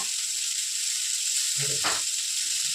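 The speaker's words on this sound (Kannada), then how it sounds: "ಇನ್ನೊಂದು ಸ್ವಲ್ಪ ಫ್ರೈ ಆಗಲಿ." Mutton sizzling in a hot pan for sambar, a steady broad hiss running throughout with a brief louder crackle and stir near the middle, close and continuous.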